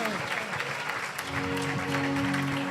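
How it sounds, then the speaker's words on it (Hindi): A church congregation at a sermon applauds loudly and continuously, the clapping dense and sustained while a voice and some sustained tones carry on underneath. "जोरदार तालियां यीशु मसीह के लिए"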